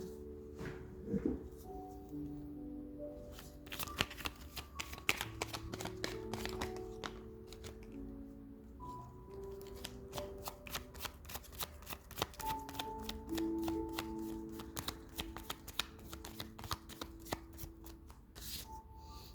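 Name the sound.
shuffling tarot cards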